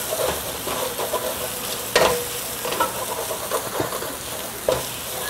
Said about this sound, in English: So now you need to constantly stir it, because the ginger garlic paste will stick to the bottom.